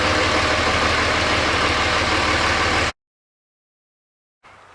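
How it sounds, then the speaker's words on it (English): A Cummins diesel in a third-generation Dodge truck idles while warming up, a loud, steady rumbling close by for about three seconds before it cuts off abruptly into silence. "go in and start the truck, let it warm up, let it get hot"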